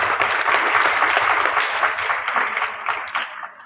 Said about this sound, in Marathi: त्यांच्याकडे एकदा जोरदार टाळ्या घ्या